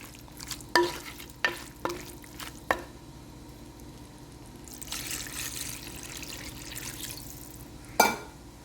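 In a pan of chicken curry cooked with tomato and salt, a spoon clinks sharply several times, then water is poured in and stirred with splashing rushes and a final scrape.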